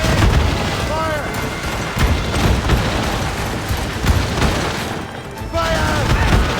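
A ship's cannons fire a volley at an enemy vessel in a naval battle, a dense barrage of deep, loud booms rolling one into another, with shouted commands and voices mixed in throughout.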